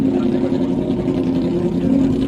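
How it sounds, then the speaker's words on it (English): Sidecar racing outfits rev their engines at Southern 100 practice on the Isle of Man, a steady, loud engine drone holding throughout with a prominent low hum. "It's good to hear them finally revving up there."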